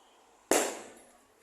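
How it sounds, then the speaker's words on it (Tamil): A single sharp firecracker bang at a Tamil village temple festival, loud and close, with a short decaying tail and no talk. "அதான் வெடி வெடிச்சிட்டு வந்துட்டே இருக்காங்க அப்படியே."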